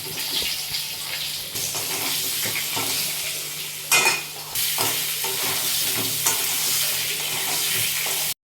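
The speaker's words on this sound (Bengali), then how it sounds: "তো এবারে আমরা আলুটা ভেজে নেবো এই তেলের মধ্যে।" Potatoes frying in hot oil in a home kitchen, with a steady broad sizzle and occasional stirring clatter, close and fairly loud, briefly surging near the middle, with no talking.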